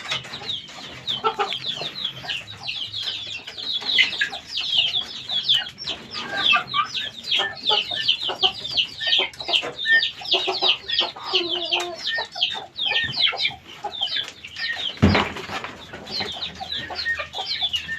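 A flock of chickens clucks continuously at close range, busy overlapping calls with a sharp thump near the end.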